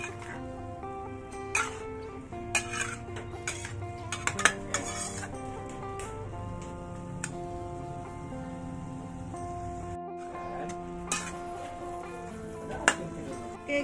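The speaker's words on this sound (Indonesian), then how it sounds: "Gaul sampai sayur kita ni layu." Ensabi greens stir-fried in a pan, with repeated clinks and scrapes of a metal utensil against the pan in an uneven rhythm, close up, over a low steady background of cooking sizzle.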